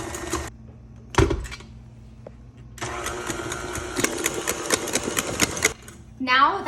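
An electric mixer whisks whipped cream into a pumpkin cheesecake mixture. A brief motor burst comes first, followed by a longer stretch of steady buzzing whir, then a pause before the mixer runs again.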